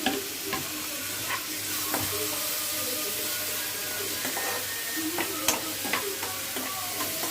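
Chopped tomato dropped onto well-browned onion in a hot pan sizzles steadily and close, with occasional spoon scrapes and stirring clatter throughout, no voices.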